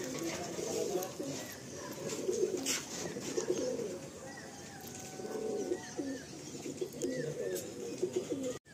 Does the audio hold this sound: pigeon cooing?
yes